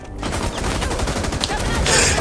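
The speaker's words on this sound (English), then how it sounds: "That was a 50 cal that hit you." Rapid .50 cal gunfire in the video game Rainbow Six Siege, a loud, close burst of repeated shots running continuously with dense, harsh cracks.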